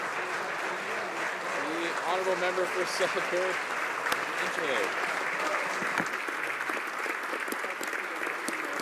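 Members of the Canadian House of Commons clap steadily in the chamber, a dense applause that continues for the whole stretch while a speaker's voice comes through underneath.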